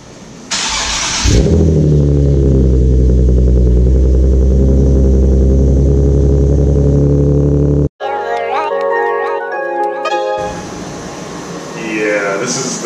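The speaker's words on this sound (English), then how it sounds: "Cold start." A Nissan 370Z fires up on a cold start: a starter whir, then the V6 catches and rises to a loud, steady high idle. It cuts off abruptly, followed by clattering and a voice speaking nearby.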